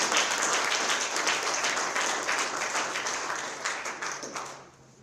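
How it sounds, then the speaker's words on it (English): An audience applauds the African Nova Scotian Music Association at a Halifax anti-Black racism grants ceremony, a dense burst of clapping that holds steady, then thins and fades out near the end. "So if we could please give a round of applause to the African Nova Scotian Music Association"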